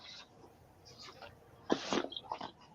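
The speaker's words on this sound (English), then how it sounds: "Well, she just sneezed on us." A woman sneezes at a crafting table, a short sharp burst followed by a few smaller breathy bursts, close and moderately loud over quiet room tone.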